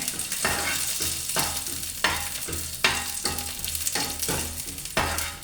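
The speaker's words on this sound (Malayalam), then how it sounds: "മുളക് നമ്മൾ ഒന്ന് മൂപ്പിച്ചെടുക്കും" Dried red chilies frying in a pan, a close steady sizzle punctuated by about seven sharp stirring scrapes at roughly even intervals, with no talking.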